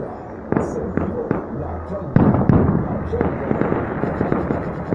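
Firework bombs at a castle-burning festival in San Miguel Ameyalco crack and pop in a quick series of sharp bangs, loud and fairly close, with crowd voices talking throughout.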